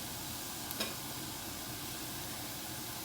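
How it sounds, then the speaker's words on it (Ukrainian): Tofu and vegetables fry in a pan with a steady, even sizzle and hiss throughout, broken once by a short clink near the start. "Ось пішов процес. Зараз вже підсмажується."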